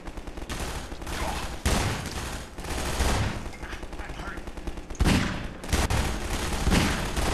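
Sustained gunfire in Half-Life 2: dense, loud automatic bursts and shots rattle almost nonstop, with sharp, heavier blasts around the two- and five-second marks.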